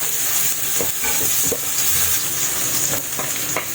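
Onion sizzles and fries in hot cooking oil in a pan, with a steady loud crackle and occasional sharp pops of stirring throughout. No one talks.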